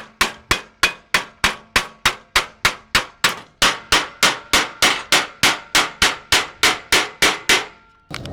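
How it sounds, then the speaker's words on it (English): Straight peen hammer pounding a rib into steel sheet on a Volkswagen Beetle resto-mod, about twenty-five sharp ringing blows in a steady, quick rhythm, loud and close with no voices. "use a straight peen hammer to form it"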